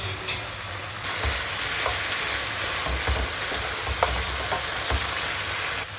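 Pasta and zucchini sauté in a frying pan with a steady, close sizzle and crackle, broken by occasional stirring scrapes and pops, with no voices.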